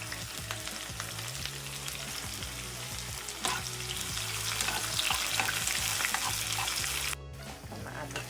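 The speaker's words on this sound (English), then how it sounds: "saltfish while I fry it down with the seasoning of my choice" Saltfish frying in a pan with seasoning gives a steady, loud sizzle with occasional stirring and scraping noises, cut off abruptly near the end by a brief quieter pause.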